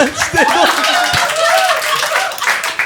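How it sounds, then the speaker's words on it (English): Audience claps and applauds for a comedian after an impression at a live comedy panel show, a steady burst of clapping with voices and laughter mixed in over it. "Big round of applause for Amrish"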